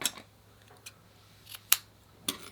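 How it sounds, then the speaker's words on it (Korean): Scissors snip through a yarn knot on a small hand-knitted square doll, a few sharp, close metallic clicks spaced apart in an otherwise quiet room. "매듭은 잘라 주세요"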